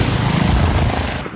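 Ambulance helicopter in flight, a loud continuous rotor and engine roar with heavy low thumping, steady and close, fading slightly toward the end.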